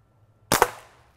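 A 357 Magnum-style toy dart gun firing a dart, two quick sharp snaps in close succession with a short fading tail, alone against near silence.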